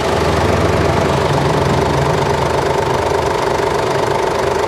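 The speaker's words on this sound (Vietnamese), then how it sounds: "Máy nổ êm lắm." Up close, a 2010 motorbike idles in a continuous, even mechanical rumble that stays at a constant loudness, with nobody speaking.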